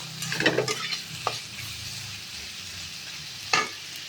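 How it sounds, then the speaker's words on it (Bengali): Vegetable curry made with elephant foot yam and coconut stir-frying in a pan, a soft steady sizzle broken by a few sharp scraping stirs of a spatula, near and fairly quiet. "ভালো করে এটা কষে"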